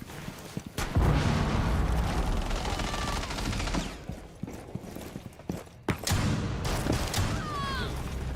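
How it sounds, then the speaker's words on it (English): A frag grenade detonates in a Rainbow Six Siege match, among sharp bursts of gunfire and thuds, with a loud blast early and another sharp crack later amid continuous battle noise. "Frag grenade out."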